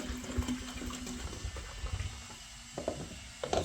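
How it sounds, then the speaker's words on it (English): Tap water runs and splashes into a container, an irregular trickle and pour of varying strength heard close up and fairly faint, being added to CT1 sealant for a central heating leak. "I'm going to get some water and add it to that"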